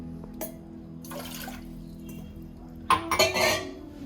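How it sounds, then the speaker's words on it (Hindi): Water poured into a cooking pot at home, heard as a few short splashing, clinking bursts near the end, preceded by faint metallic handling of the pot and cup. "एक बर्तन में 2 कप पानी लेना।"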